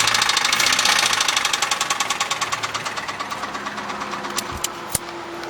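A worn Honda Civic engine with 280,000 miles revs and knocks, a rapid metallic rattle that slows as the revs fall, with a couple of sharp clunks near the end.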